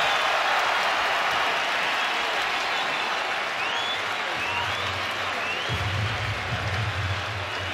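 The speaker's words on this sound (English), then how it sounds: "And an ovation from this Barclays Center crowd." A dense, steady roar of applause and cheering fills a packed boxing arena at Barclays Center as a bout's final round ends, loud and sustained throughout, with a low rumble of crowd noise swelling near the end.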